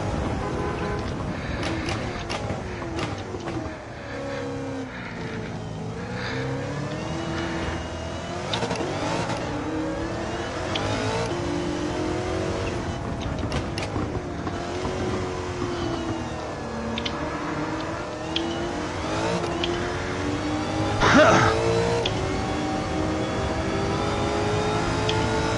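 Race car engine in Gran Turismo 7 held at full throttle, revving continuously with rising and falling pitch through gear changes, loud and close for the whole stretch, with brief tire and contact noises.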